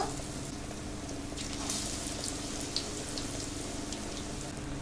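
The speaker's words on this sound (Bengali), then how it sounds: "কুমড়ো পাতা বড়া তুলে নিচ্ছি এক এক করে সব বড়া কটা ভেজে নেব" Pumpkin leaf pakora fritters deep-frying in oil, a continuous dense crackling sizzle at steady loudness with a few small pops, no voices.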